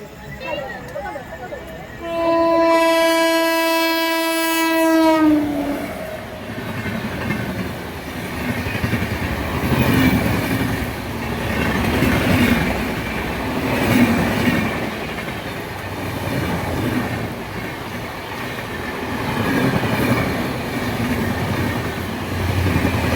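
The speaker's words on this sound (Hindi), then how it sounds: "दोस्तों गोमती एक्सप्रेस हमें ओवरटेक मारने वाली है।" A train horn blares loudly for a few seconds, then the Gomti Express rumbles past a stopped Mau Express with steady clattering wheels and rushing noise, close by; a voice speaks faintly underneath.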